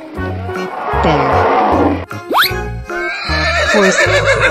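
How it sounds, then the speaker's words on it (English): A horse whinnies in a rising, shrill neigh midway through, heard over a loud, rhythmic, music-like backing that continues throughout. "Horse."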